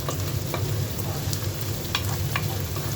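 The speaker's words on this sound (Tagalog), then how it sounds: "piprituhin natin yung ating bawang" Garlic and onion fry in hot oil for Filipino egg fried rice, giving a steady close sizzle with light scraping and stirring clicks from a utensil in the pan.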